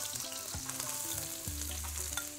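Onion sizzles and fries in olive oil in a pan while a seafood fideuà is being prepared, a steady crackling hiss with intermittent stirring bumps and scrapes, close and continuous, with no talking.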